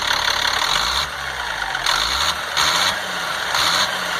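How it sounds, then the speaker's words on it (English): A 1998 GMC C8500 with a Caterpillar 3116E diesel engine runs steadily close by, a rough low rumble that swells and eases in a few pulses, with no voices. "There's no engine miss, there's no flutter, and it starts right back up."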